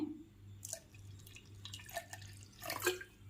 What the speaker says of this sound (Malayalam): ഇതിലിനി നമുക്ക് കുറച്ച് വെള്ളം ചേർക്കാം ഇത് തിളപ്പിച്ച് തണുത്ത വെള്ളമാണ്